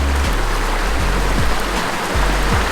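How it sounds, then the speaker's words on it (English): A small creek flowing during autumn stream fishing, a loud, constant rushing wash of water close by, with a low rhythmic thumping underneath and nobody speaking. "Fishing in a small creek"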